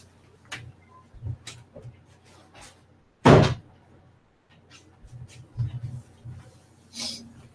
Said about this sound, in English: hold on, let me close the door